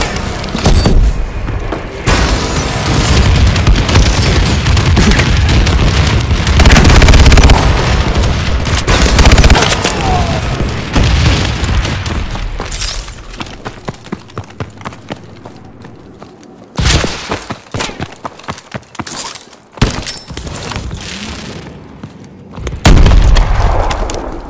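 Heavy explosions and gunfire from a bombing run in Call of Duty Advanced Warfare on Xbox One, set in Detroit: loud booming blasts, then a quieter stretch, then sharp bursts of detonations near the end.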